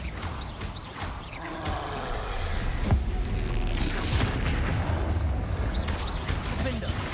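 A Bombarda exploding spell goes off in Hogwarts Legacy, with one sharp blast near the three-second mark over a dense, continuous bed of game sounds and rumbling effects.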